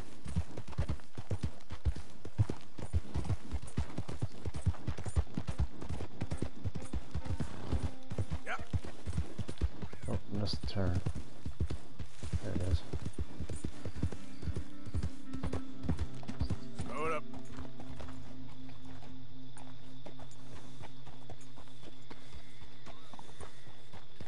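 Horse hooves clip-clop in Red Dead Redemption 2, a dense run of galloping hoofbeats over the first half that thins into steadier, quieter steps with a sustained tonal background later.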